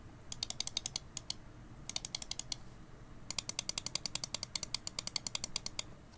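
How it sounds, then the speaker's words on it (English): Rapid bursts of crisp, loud clicking from the optical switches of a Razer DeathAdder V3 Pro wireless gaming mouse, fired in quick clusters with short pauses, close-up and without any talking. "The optical switches feel great and they're nice and clicky, and they are very loud as well"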